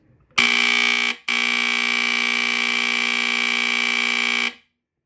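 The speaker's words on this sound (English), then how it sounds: "it has that AC buzzer, which I really love the sound of" A smoke and fire alarm with an AC buzzer sounds during a test: a loud, harsh, steady electric buzz with a brief break after the first second, then one long continuous blast that cuts off cleanly.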